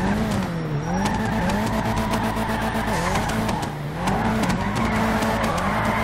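A car drifts in GTA 5 during a drift event, its engine droning and wavering steadily while tires squeal and skid almost continuously through the slides, loud and up close with no voices.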